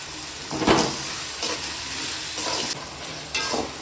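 Eggplant sautéing in a pan, a steady close sizzle and hiss with repeated scraping stirs of a utensil against the pan at irregular intervals, no voices.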